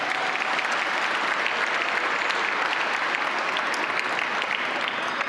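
An audience applauds at an awards celebration, a steady, dense wash of clapping from many hands at an even level for several seconds, with no voices on top.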